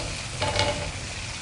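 Chicken gizzards frying in oil with potatoes, a steady close sizzle with a brief stirring scrape, no talk.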